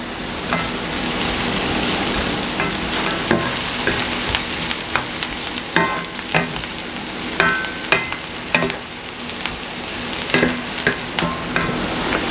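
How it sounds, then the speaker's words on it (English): Chopped onion sautés in a pan with a steady sizzle and fry hiss, while a utensil stirs and scrapes against the pan in repeated sharp clacks through the second half. It is close and fairly loud, with no voices. "now I'm going to add my onion that I've chopped, and I'm going to saute this just until it's tender"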